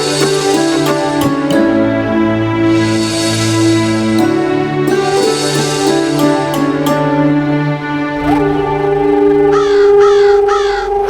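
Crows caw repeatedly in a devotional Hindu mythology drama scene, their harsh calls coming in uneven bursts over a steady background of music.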